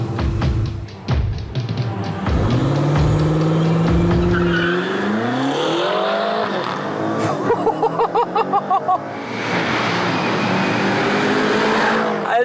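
A BMW X6 racing a Mercedes SL in an Abu Dhabi challenge, engines revving hard and climbing in pitch as the cars accelerate, with a rattling stutter and some tire noise, and a voice talking over the run.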